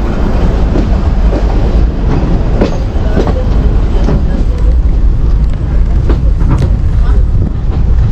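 A local train runs just after leaving Adamdighi station, a loud, steady rumble with rhythmic clickety-clack of wheels on rails and faint metallic squeals, heard from inside the carriage.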